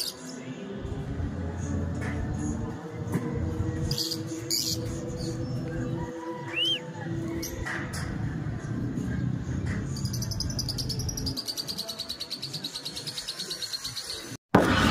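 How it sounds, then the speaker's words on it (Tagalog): Many wild birds chirp and call throughout a rural outdoor setting during a pigeon training session in Del Gallego, Quezon, with steady insect-like buzzing and a constant background hum, no talking. "Daming ibon"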